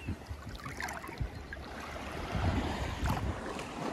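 Wind and surf wash over a beach as a steady, rumbling roar, with gusts buffeting close by and waves swelling louder toward the end, and no voices.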